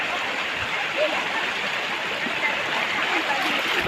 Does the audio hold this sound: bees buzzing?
no